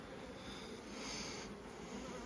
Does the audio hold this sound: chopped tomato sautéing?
no